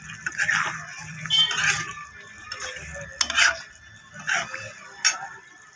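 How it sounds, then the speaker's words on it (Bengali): Potato, eggplant and flat bean curry stir-fried in a pan with a splash of water: intermittent scraping strokes of a spatula over a soft sizzle, close and moderately quiet, in irregular bursts. "দিয়ে কষিয়ে নেব ভালো করে সবজিটাকে"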